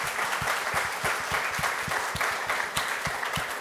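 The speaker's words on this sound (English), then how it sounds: "Give her a round of applause" A symposium audience applauds steadily, a dense patter of many hands clapping close by with a few louder individual claps, no voices.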